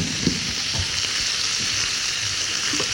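Frog legs sear in a hot pan, giving a steady, close sizzle and crackle throughout with occasional light clinks of a utensil as pieces are turned.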